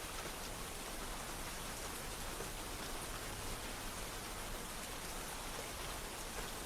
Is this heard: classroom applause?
no